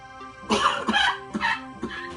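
Several harsh coughs in quick succession, close and loud, with brief pauses between bursts and a low murmur underneath.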